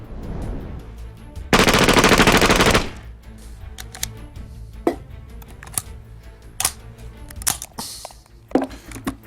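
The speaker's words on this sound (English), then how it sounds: "So now we're gonna shoot with a little submachine gun, which is the micro Uzi" A micro Uzi submachine gun fires one very fast, loud burst lasting about a second, followed by scattered metallic clicks and handling knocks.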